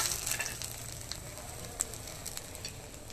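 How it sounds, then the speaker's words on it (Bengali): Black cumin, four dried red chillies and two bay leaves sizzle in hot oil in a pan, a steady close crackle and hiss with brief sharper pops, heard alone without speech. "এই তেলে দিয়ে দেবো কালো জিরে, 4টে শুকনো লঙ্কা, 2টো তেজপাতা,"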